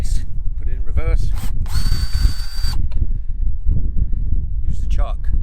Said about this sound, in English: Use the chuck of your Makita or your power tool to pull the bad boy out.